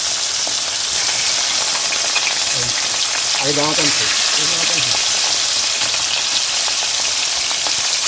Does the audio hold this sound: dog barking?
no